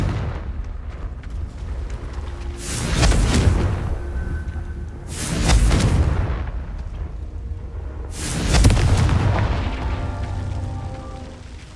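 Confringo blasting spells explode in the video game Hogwarts Legacy. There are three loud booming blasts, spaced a few seconds apart, and each one rolls off into a rumbling decay between them.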